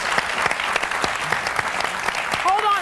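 Jackie, seated beside him, claps along with the crowd in a steady patter of clapping and applause, with voices talking over the top.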